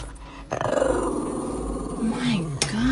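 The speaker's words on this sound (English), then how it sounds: "Is that who you're barking at?" A small dog growls and lets out short barks at something on a shelf indoors, close and loud, in uneven bursts, while a person talks over it.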